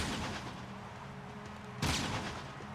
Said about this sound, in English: I'm just gonna shoot right at that wall and just look